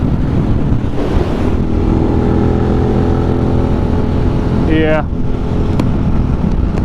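A Suzuki SV650 motorcycle rides steadily with a continuous engine drone and heavy wind rush throughout, a brief rising whine near the end, while a rider speaks briefly over it.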